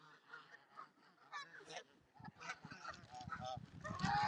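Geese honk loudly in a town park, a noisy flock calling in bursts that swell toward the end, with a voice talking in between.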